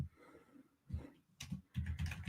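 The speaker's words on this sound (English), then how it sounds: "She's angry and typing." Soft computer keyboard typing in short bursts of clicks separated by pauses, quiet and close, with no voices.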